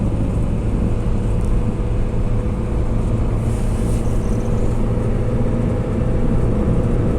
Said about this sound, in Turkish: Ayarlayıcı devreye girdi ve şu an araç kendi kendine hızlanıyor